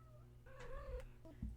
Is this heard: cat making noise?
yes